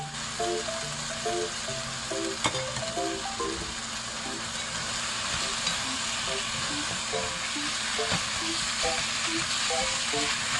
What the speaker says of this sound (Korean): 고기와 양념장이 고루 볶아졌으면 양파, 청양고추를 넣어 볶아줍니다